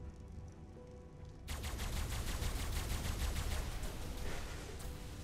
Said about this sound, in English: He's literally just spamming turrets in there.